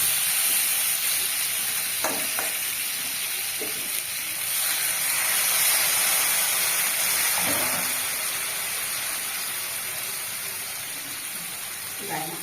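A steady hiss of frying as fish goes into spice paste already cooked down in a pan, sizzling continuously and fairly loud, with a few brief stirring scrapes.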